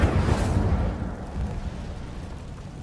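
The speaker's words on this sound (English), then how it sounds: "Incendio!" Incendio fire spell cast in the Hogwarts Legacy video game, a loud rumbling burst of flame at the start that rolls on as a sustained roaring blaze, then eases slightly without fading out.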